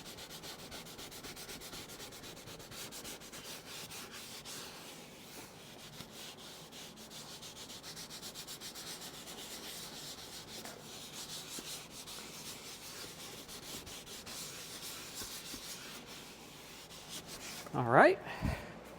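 A P&S scrubber brush scrubs dressing into a tire, giving a steady close rubbing and scraping that runs almost without a break, ending in a brief louder scuff.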